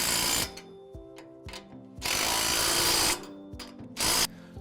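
Power tool ratcheting and whirring in short bursts while tightening a May Wes G4 stalk stomper shoe mount bracket on a Drago GT corn head, loud mechanical spurts separated by quieter pauses.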